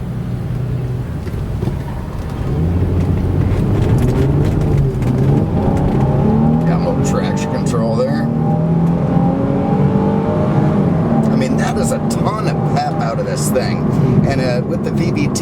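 A 2006 Nissan 350Z Grand Touring Roadster with VVT accelerating hard, engine note climbing steadily through the gears as the revs rise, close and continuous, with someone talking over it.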